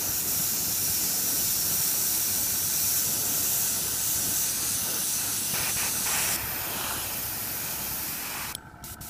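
Steady airbrush hiss spraying green paint continuously at close range over blue tack masking, a smooth broadband rush with slight changes in pressure and a brief cutoff near the end.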